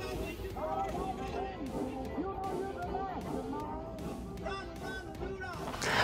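A bright, tinkly festive jingle, "Run Rudolph Run", plays with a bouncy rhythm from a Tesla Model Y's external speaker, sounding slightly distant and thin outdoors.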